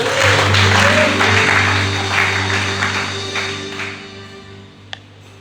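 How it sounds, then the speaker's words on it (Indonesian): Congregation applauding during a church service, a broad wash of clapping over sustained organ or keyboard tones, fading gradually, with one sharp tap near the end. "Tepuk tangan buat Tuhan."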